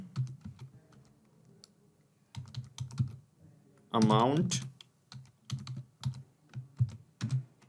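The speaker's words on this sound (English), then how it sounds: "Okay, so I'm typing a message here like this." Keys clatter on a computer keyboard in quick bursts with short pauses, close by, and a voice briefly speaks a single word partway through.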